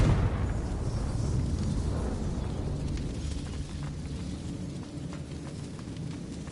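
A Confringo fire spell explodes in Hogwarts Legacy with a loud, deep burst at the start. A rumbling roar follows and slowly fades.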